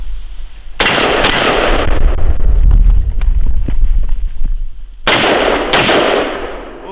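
Gunshots fired outdoors from a Caterpillar bulldozer: four loud, sharp reports, two close together near the start and two more near the end, over a steady rumbling engine background.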